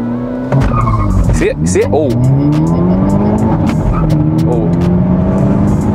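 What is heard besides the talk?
Hyundai Elantra N launching at 4,000 RPM with wheel hop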